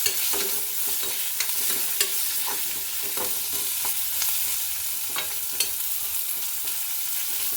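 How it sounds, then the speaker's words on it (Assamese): Steady sizzling of onions frying in a pan, with scattered clicks and scrapes of a utensil stirring throughout, no talking. "পিঁয়াজখিনি অকণমান ভাজি ল'ম।"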